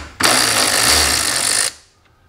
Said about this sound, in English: So let's go ahead and get one of these screws off.